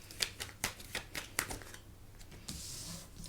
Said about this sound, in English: I'm going to keep shuffling now.